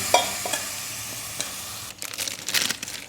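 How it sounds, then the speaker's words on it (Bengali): Water splashed into a pan of small mourala fish frying in oil, bursting into a crackling, hissing sizzle that swells in the second half, close and alone with no talk. "মধ্যে সামান্য একটু জল দিয়ে দিলাম।"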